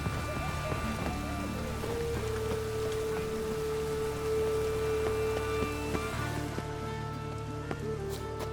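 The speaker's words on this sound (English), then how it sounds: "Rain again." Rain falls steadily in The Witcher 3: Wild Hunt, a soft, even patter of drops on surfaces that holds at low level throughout.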